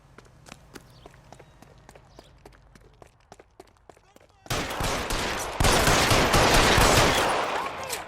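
Gunfire erupts in the L.A. Noire video game, loud and dense, a sustained volley that follows several seconds of quieter sharp footsteps or clicks before the shooting starts.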